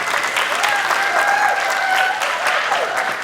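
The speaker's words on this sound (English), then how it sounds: "How about another round of applause?" A room of people claps enthusiastically for a speaker at a talk, dense close applause that fills the whole few seconds without a pause.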